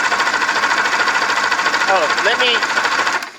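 Outboard motor on a 1984 Grady White Overnighter 20 boat runs with a steady, loud droning hum, voices talking over it, until it cuts off abruptly near the end.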